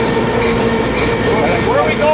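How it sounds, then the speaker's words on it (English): Amtrak California Zephyr passenger train rolling on rails, a steady close rumble and rattle with faint squealing from the wheels, continuous for about two seconds. "This is three trains. It's the California Zephyr"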